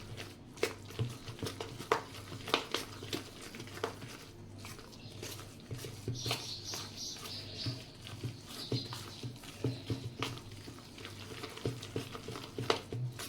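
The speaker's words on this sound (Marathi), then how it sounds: "आपण व्यवस्थित चांगलं मिक्स करून घ्यायचं" Mixed lentil batter with salt stirred for sandge, soft repeated wet squishing and scraping strokes close by, quiet and irregular, running for several seconds.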